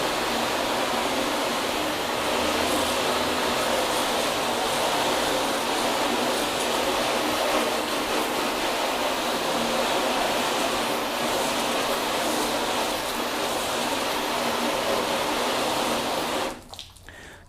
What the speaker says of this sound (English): So let's just rinse this thing.